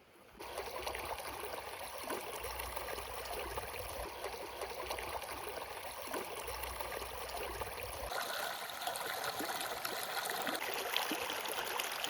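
A Dartmoor river runs past a riverside lunch spot near Bellever Forest, a steady close babble and trickle of flowing water that carries on unbroken and alone.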